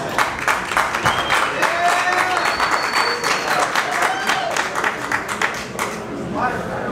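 An audience at an award ceremony, the OUT Miami Bowtie Bash, breaks into sustained applause, dense clapping from a large crowd filling the room, with cheers and a few voices over it.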